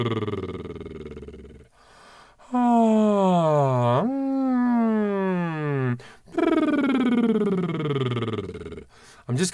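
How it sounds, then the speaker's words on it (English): Vocal warm-up lip trills, several buzzing lip bubbles that glide in pitch, one dipping and rising, others sighing downward, each sustained for a few seconds with brief pauses between, close and loud. "I'm going to sigh on lip bubbles, and it sounds like this."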